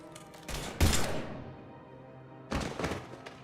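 A burst of gunfire from the video game Mass Effect 3, two loud clusters of shots with a pause between them, heard without speech.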